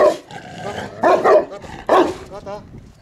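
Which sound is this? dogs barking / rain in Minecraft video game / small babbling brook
dogs barking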